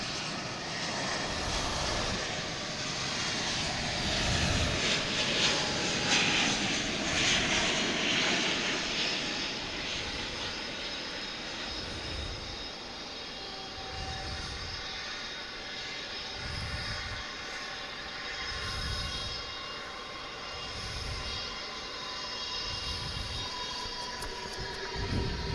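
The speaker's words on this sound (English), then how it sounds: "Got the big 777 coming in from Honolulu." A big Boeing 777 arriving from Honolulu at Dallas Fort Worth airport gives a sustained, loud jet engine roar that swells and fades gently. Faint whining tones run underneath and no one speaks.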